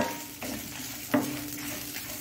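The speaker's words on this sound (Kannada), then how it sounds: "ಸ್ವಲ್ಪ ಹಳದಿ ಹಾಕ್ಕೊಂಡು ತೆಂಗಿನ ತುರಿ ಇದರಲ್ಲಿ ಚೂರು ಫ್ರೈ ಆಗಲಿ" Grated coconut with turmeric frying in a pan for Mangalorean basale sambar gives a close, steady sizzle punctuated by two or three quick spatula scrapes and a brief metallic clink.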